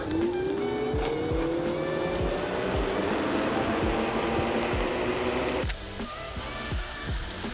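Electric scooter motors whine and rise in pitch as the scooters accelerate together in a race over about 100 metres, with rhythmic road thumps and steady noise; the whine cuts off near the end.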